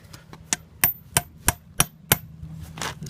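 Sharp, evenly spaced hammer taps on a blade set against wood to cut through tarp tent material, about seven close, crisp knocks in steady rhythm with no talking.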